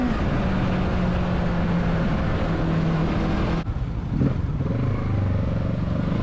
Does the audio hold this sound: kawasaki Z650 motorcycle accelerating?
yes